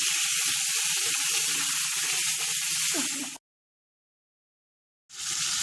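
Chicken and onion frying in a pan with ginger and garlic give a loud, steady sizzle, broken by a couple of seconds of silence before the hiss returns.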